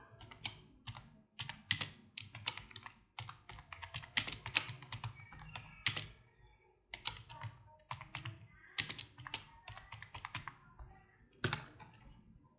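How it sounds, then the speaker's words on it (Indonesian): Keys clatter on a computer keyboard during data entry, in quick, uneven bursts of close, crisp strokes with short pauses and no voices. "lanjutkan dengan mengetikkan sampai 15 baris karena minimal 15."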